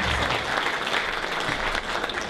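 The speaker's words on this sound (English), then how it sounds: "A big round of applause for this volunteer." Audience at a comedy magic show applauds a volunteer, a thick, steady wash of clapping filling the short moment without a break.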